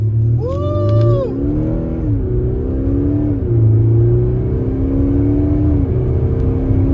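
An Audi SQ5 diesel sport SUV accelerating hard, heard loud from inside the cabin. The engine note climbs repeatedly in pitch and drops back through several quick gear shifts, with a steady low rumble underneath.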